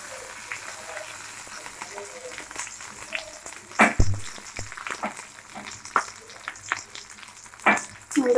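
Pieces of food fried one at a time in oil in a pan over a low gas flame hiss and crackle steadily, with sharp spatters and clanks of a utensil scattered throughout, and no speech.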